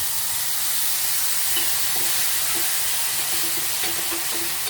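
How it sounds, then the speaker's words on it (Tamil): Banana stem sautés in a pan of oil tempered with fenugreek, cumin, green chilli and curry leaves, giving a steady, even sizzling hiss with a few faint clicks and pops. "ஒரு நிமிஷம் நல்லா வதங்கட்டும்."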